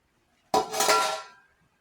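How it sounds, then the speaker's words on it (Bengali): A lid lifted off a pot of home-cooked biryani: one short metallic clink and scrape lasting about a second, close and fairly loud, surrounded by quiet. "ঢাকনাটা খুলে দেখি।"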